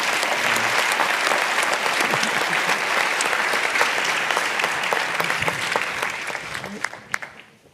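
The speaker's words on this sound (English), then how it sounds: "A big round of applause." Audience applause for panelists at the Nobel Week Dialogue 2025 on health, sustained dense clapping from a large crowd that holds steady for several seconds and then thins out and fades.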